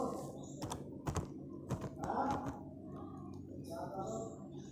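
Quick bursts of keystrokes on a computer keyboard while HTML code is written, irregular clusters of taps close up with pauses between them, under a quiet speaking voice.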